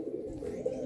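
Pigeons at a breeders' pigeon sale in Naihati coo in a steady low murmur, one fuller coo rising briefly near the end, with no voices over it.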